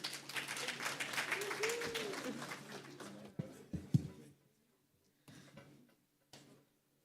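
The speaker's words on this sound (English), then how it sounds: "Can we give her a round of applause?" A conference audience at an annual opening session applauds for about three seconds, dense clapping that thins into a few scattered claps, followed by brief knocks, a passing voice and quiet.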